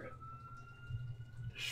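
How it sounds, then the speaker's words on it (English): An emergency vehicle siren wails faintly and steadily in the distance during a storm in the Fort Worth, Texas area, over a low rumbling background. "Siren"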